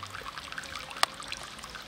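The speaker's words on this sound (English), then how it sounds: "From the spring, water forms a stream that snakes down the hills where it gathers pace and volume" Spring water trickles and pours in a small hillside stream, a faint continuous babble with one sharp splash standing out partway through.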